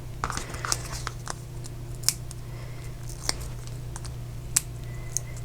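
Scissors snipping a dimensional adhesive for a Stampin' Up! card project, a few quiet crisp cuts spaced irregularly over a low steady background hum.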